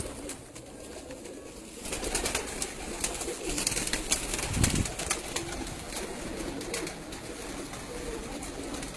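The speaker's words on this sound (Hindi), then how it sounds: "तो ये वो तमाम कबूतर है जोड़ों वाले भी।" Pigeons cooing and rustling nearby, several birds at once with soft, throaty calls and fluttering that swells in the middle and then settles.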